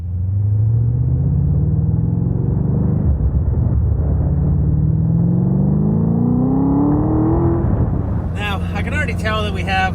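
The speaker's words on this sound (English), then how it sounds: "we have a little bit of an exhaust leak" A Mazda RX-7 rescued from a swamp idles and revs with a small exhaust leak at a misaligned V-band joint, a loud, close droning rumble whose pitch climbs steadily before a voice speaks near the end.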